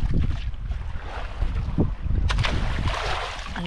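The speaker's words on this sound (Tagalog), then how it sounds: "Ang lalaki na ng alon." Strong wind and large sea waves wash around a small fishing boat out on open water, a steady rushing roar with gusty buffeting on the microphone and no clear talk.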